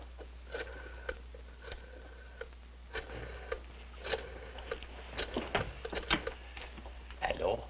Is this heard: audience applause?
no